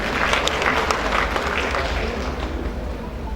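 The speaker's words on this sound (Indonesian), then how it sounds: "Tepuk tangan untuk kita semua." Applause from an audience at a creative economy event at MCC in Malang rolls on steadily, dense clapping sustained for a few seconds before gradually easing.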